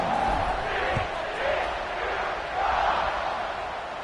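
A Florida State football stadium crowd roars in the fourth quarter just before a kickoff, a broad, sustained rumble of voices that swells and eases in waves.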